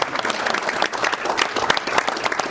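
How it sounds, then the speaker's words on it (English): An audience gives a round of applause at the Durham Region 2023 Ontario Parasport Games, with dense, irregular clapping that stays close and fairly loud throughout, without speech. "I just want to give her a round of applause."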